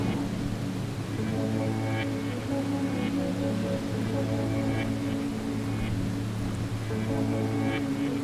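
Steady, even rain for sleeping hisses without pause, close and soft, layered over low sustained humming tones that hold throughout, with no voices and no break in the wash.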